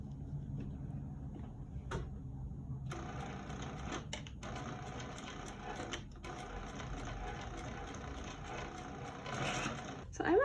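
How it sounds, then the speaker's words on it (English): Beginner sewing on a lined zip pouch: a sewing machine runs along an existing seam in steady close mechanical whirring bursts, with short pauses between runs. "We're going to do the exact same thing and just sew along that existing seam line."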